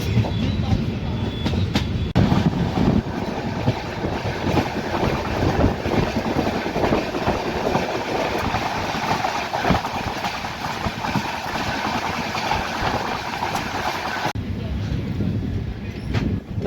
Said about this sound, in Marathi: वाशिमवरून आपली ट्रेन निघालेली आहे.